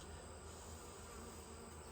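Honey bees buzz in a dense, continuous drone from an open hive during a frame inspection, close and steady throughout.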